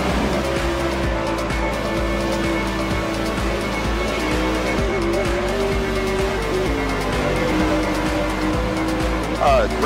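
Race cars roaring around the Eldora dirt track in a sim racing game, steady loud engine drone with tire squeal and skidding throughout, a commentator talking over the pack.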